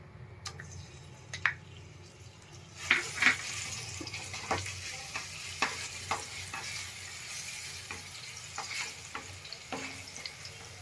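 Garlic paste sizzles in hot oil in a pan, a steady close frying hiss that grows louder partway through, punctuated by sharp spoon clicks and scrapes against the pan.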